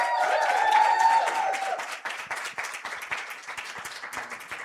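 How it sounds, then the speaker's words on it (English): An evening audience applauds a panel of women in literature and film, with dense clapping swelling at first and then thinning into scattered, uneven claps. "Let's give them a round of applause, please."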